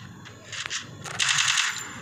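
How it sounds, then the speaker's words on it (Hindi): Rapid bursts of automatic gunfire crackle in the video game Free Fire, with a longer sustained volley toward the end, fairly loud with no talking. "फायरिंग की आवाज़ आ रही थी यहाँ से"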